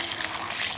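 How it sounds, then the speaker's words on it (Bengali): Tap water runs steadily over bottle gourds being washed in a sink, a close, constant gushing splash. "এখন আমি পানি দিয়ে লাউগুলো ধুয়ে নেব।"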